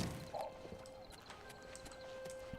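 Horse hooves clip-clopping in Oblivion Remastered, a few quiet, evenly spaced hoof clops near the listener, joined by faint tonal game sounds and no talk.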